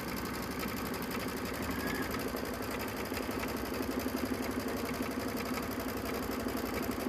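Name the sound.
embroidery machine stitching a tack down outline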